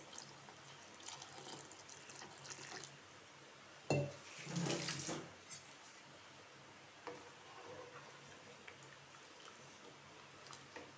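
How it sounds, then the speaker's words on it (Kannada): Water is poured into a pot of spicy pepper rasam: a short splashing pour near the middle, with quiet kitchen clinks and faint stirring before and after, and no speech. "ಹಾಗೆ ಸ್ವಲ್ಪ ನೀರು ಸೇರಿಸ್ತೇನೆ"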